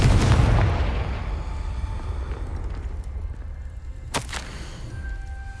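A Confringo fire spell blasts in Hogwarts Legacy, a loud booming explosion at the start that rumbles and fades, followed by a sharp crackling burst around the fourth second and a lingering tonal hum.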